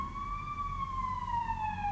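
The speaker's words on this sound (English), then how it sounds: "Will this ambulance please," An ambulance siren wails as it passes by, a clear rising and falling electronic tone slowly dropping in pitch over a quiet background rumble, moderately distant, with nobody speaking.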